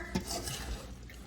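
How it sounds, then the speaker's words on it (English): A spoon stirs dressed coleslaw in a bowl, making close, soft wet squelching and scraping sounds with a light clink of utensil on the dish near the start. Nobody speaks. "Give it a nice little stir."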